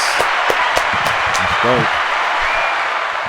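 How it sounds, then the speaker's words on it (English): A podcast audience claps under ongoing talk, with a few sharp individual claps standing out over a steady wash of noise while voices speak. "Round of applause."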